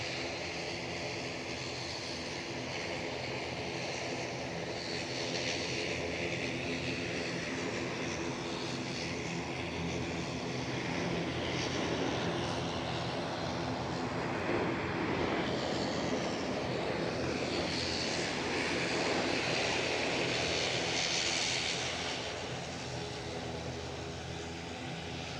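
Ryanair airliner at Edinburgh Airport, a distant jet engine rumble that swells gradually to a broad roar and then eases, heard faintly and continuously without talk.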